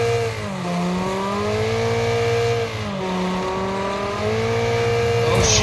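Race car engine in the Wreckfest video game, revving through repeated rising gear sweeps with a sustained loud drone and a short dip midway, close and continuous, with no talk over it.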